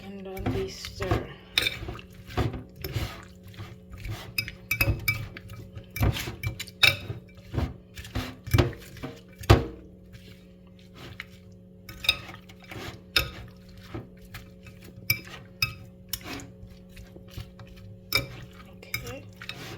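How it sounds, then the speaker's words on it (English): A spoon stirs diced seasoning through Jamaican brown stew chicken in a pot, giving repeated scraping clinks against the metal at an uneven rhythm over a steady low hum, close and moderately loud. "All that diced seasoning, and then we stir."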